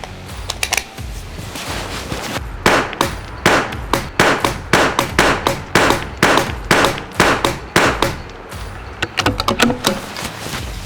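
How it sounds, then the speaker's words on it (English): An unsuppressed .22 rimfire rifle fired at a 100-yard target, a run of sharp, loud shots at fairly regular intervals, with no talking over them. "We're gonna shoot it unsuppressed at 100 yards."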